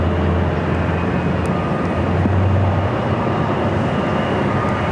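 A British Airways airliner rumbles steadily at Phoenix airport, a loud, continuous jet roar held evenly throughout with no talk over it.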